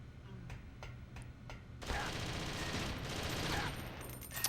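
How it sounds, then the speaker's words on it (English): Gunfire in Metal Gear Solid: The Twin Snakes, a few faint sharp shots early on followed by a dense, loud burst of rapid automatic fire that keeps going to the end. "I got shot twice"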